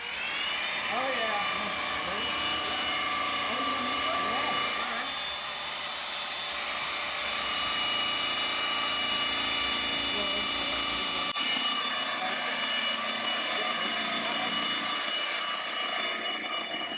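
A polisher runs at high speed on the painted surface of an abandoned Cessna 120 airplane, a loud continuous whine that holds steady throughout, with people talking over it.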